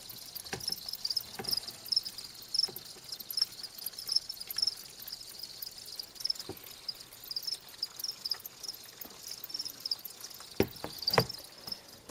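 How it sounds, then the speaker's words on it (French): Crickets in a box holding 250 of them chirp nonstop, a steady, bright, high trilling pulse with faint scattered taps and rustles underneath. "Donc ça c'est la boîte de 250 grillons."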